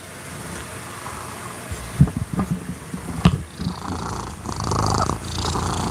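A cat purrs up close while its chin is scratched, a low rumbling purr mixed with soft rustling and light wind-like noise, and no one speaks.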